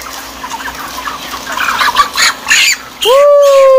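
Birds cackle and squawk in short bursts over a noisy background, followed by a sudden loud honking call at the end.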